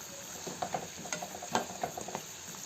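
Mini samosas deep-frying in hot oil, giving a steady close sizzle scattered with small pops and bubbling crackles throughout.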